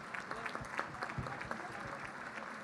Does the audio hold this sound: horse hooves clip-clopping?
no